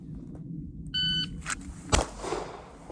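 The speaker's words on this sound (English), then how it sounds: "As soon as you hear this timer, do that" A timer gives a single clear electronic beep lasting about a third of a second, set against low background rumble and followed by a short thump.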